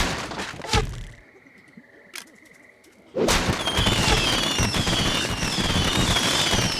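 Video game fireworks from a Penny Arcade adventure game burst in a loud, dense crackling barrage after a few isolated thumps and a quieter stretch, with sparkling whistles continuing to the end.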